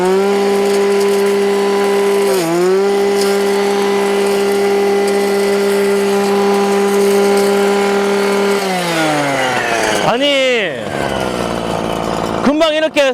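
A loud two-stroke engine brush cutter, a Husqvarna 555 with 53cc engine and twin handles, runs at a steady high whine, then drops and revs up and down sharply near the end.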